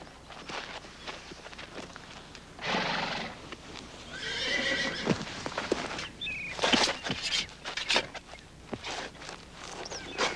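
A horse whinnies loudly several times, mixed with clip-clopping hooves and footsteps, in an outdoor western-style scene; the neighs stand out clearly against the shuffling hoofbeats.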